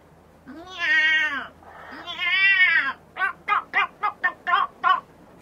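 A voice imitating a cat, with two long wailing meows followed by a quick run of about eight short, sharp mews, loud and close in a quiet room.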